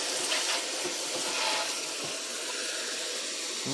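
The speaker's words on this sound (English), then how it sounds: "then it's okay to help rinse all the soap off" Water from a hose or tap sprays and splashes onto a soapy K&N air filter, a steady broad hiss lasting several seconds, close and even.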